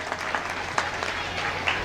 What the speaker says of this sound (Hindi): जोरदार ताली बजा स्वागत करें।